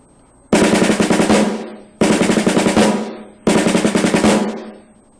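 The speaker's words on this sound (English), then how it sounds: "Now let's try leading with the left." Three tight 9-stroke rolls on a snare drum, led with the left hand, each a rapid rattling burst closing on a single accented stroke, loud and near with short pauses between.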